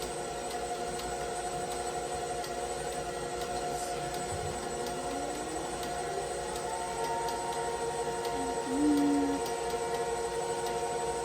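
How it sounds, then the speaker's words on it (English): A long wavering siren tone drones in the distance, faint and continuous, with a brief brighter tone near the end. "You guys can hear our siren here in town that goes off at lunch."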